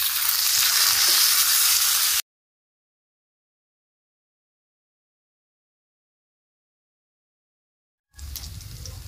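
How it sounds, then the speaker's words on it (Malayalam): Coconut pieces and raisins sizzle and crackle as they roast in a pan for unakkalari payasam, a steady frying hiss that drops into a long silence before returning briefly. "തേങ്ങാക്കൊത്തൊന്ന് മരിഞ്ഞതിന് ശേഷം നമുക്കിതിലേക്ക് മുന്തിരി ഇട്ട് കൊടുക്കട്ടോ"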